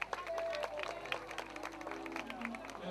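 An outdoor village summer festival crowd claps for a pianist, a busy, fairly distant round of many hands with a faint steady hum underneath.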